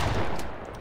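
A short, loud blast of video game gunfire during an intense one-on-one online shooter match, a dense burst of rapid shots that fades within a second.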